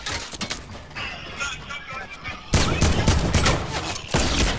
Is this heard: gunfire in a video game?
yes